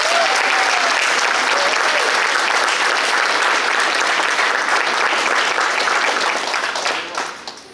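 A roomful of people applauds the graduating seniors at a high school band banquet, dense continuous clapping that holds steady and then tapers off toward the end.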